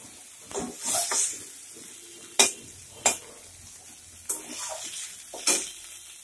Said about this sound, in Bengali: এখন মশলা কষানো, একটু জল দিয়ে কষাচ্ছে